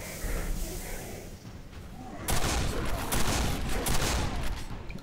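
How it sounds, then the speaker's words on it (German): Gunfire in Quake 4 is aimed at the player. A fairly quiet opening gives way to loud, rapid bursts of shots with explosive cracks that run on for several seconds. "Nein, hör auf mich zu schießen."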